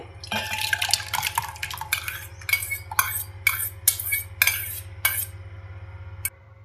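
Thick creamy set curd in a pot being churned by hand with a wooden churner, giving a run of wet, clattering knocks and sloshes in irregular bursts, close and fairly loud over a steady low hum, with no talk.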